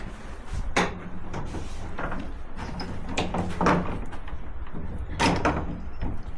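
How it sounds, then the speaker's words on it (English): The door of a small church being tried, several knocks and rattling thumps at irregular intervals over a steady background, close and fairly loud with no talking. "going to try the door"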